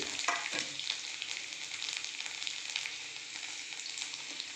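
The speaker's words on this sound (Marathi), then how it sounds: "फोडणी आपली उडाली आहे आपण लसूण ॲड करून" Garlic fries in spluttering hot oil as the tempering for dal palak, a soft, continuous sizzle with scattered crackling pops throughout, heard alone without talk.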